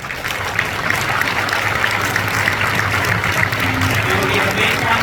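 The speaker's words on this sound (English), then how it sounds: "We will give a big round of applause to His Excellency Professor Dr. Neil Constantine for his remarks" Audience applause at a ceremony marking the ninth anniversary of a world peace conference, a steady, dense wash of clapping that holds evenly for several seconds with a faint voice underneath.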